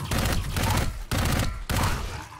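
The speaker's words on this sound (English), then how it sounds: "All right, burst firing works much better with this guy." Gunfire in the video game Dark Void, fired in loud, rapid bursts, three distinct volleys separated by brief gaps, close and dominant with no talk over it.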